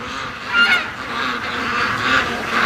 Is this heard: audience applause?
no